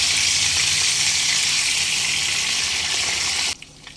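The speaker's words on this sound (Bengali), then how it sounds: "মিডিয়াম ফ্লেমে মাছগুলো হালকা লালচে করে ভেজে উঠিয়ে নিতে হবে" Pomfret fish fry in oil over a medium flame, giving a steady, close, bright sizzling hiss that cuts off abruptly near the end.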